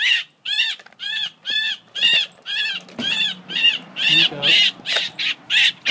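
A bird that has flown indoors gives a long run of regular, repeated harsh calls, loud and close, about a dozen evenly spaced notes, with a person speaking briefly over them.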